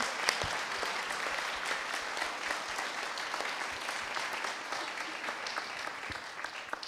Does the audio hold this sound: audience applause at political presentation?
yes